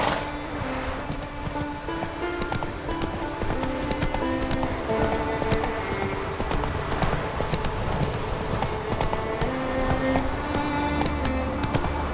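Roach, the horse in The Witcher 3, gallops with a steady, rapid clip-clop of hooves over a background game music score, close and continuous throughout.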